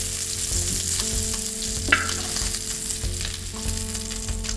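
Pork back ribs sear in a frying pan for a Spanish-style braise, giving a loud, steady sizzle and crackle throughout with one brief sharp clink near the middle and no talking.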